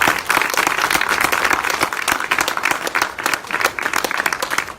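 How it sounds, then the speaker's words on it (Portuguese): Worshippers in a church service give a strong round of applause, a loud, dense burst of many clapping hands that carries on steadily with slight surges. "dê um forte aplauso a Ele"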